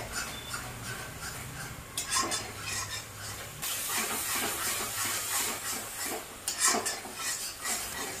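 Powdered spices fry in oil as they are stirred for a sea fish curry, giving a steady soft sizzle with recurring scraping and clinking of a spoon against the pan, close and without talk.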